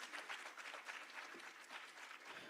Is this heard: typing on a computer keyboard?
no